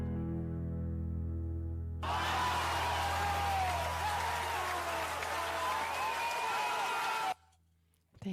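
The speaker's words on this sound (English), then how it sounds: "it was maybe a bit too much cheering for the Tennessee Waltz" A live audience bursts into loud applause with whoops and cheers after a Tennessee Waltz is played, sustained for about five seconds before cutting off abruptly. Soft instrumental tones linger underneath at the start.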